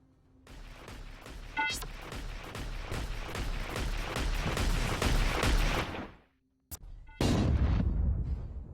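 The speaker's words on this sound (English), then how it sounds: "that's the snub cannon, all right" Snub cannon fire in the mech combat game Heavy Gear Assault: a dense, sustained barrage of booming shots and blasts, loud and continuous, breaking off briefly before another heavy burst resumes.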